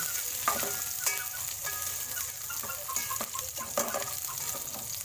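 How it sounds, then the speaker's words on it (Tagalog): Onions sauté in a pot of tinolang manok after the chicken has browned, giving a steady sizzle punctuated by sharp clinks and scrapes of a utensil stirring against the pot, with no talk. "Kaya isunod na natin ang sibuyas. Tapos, halo-halo ng konti."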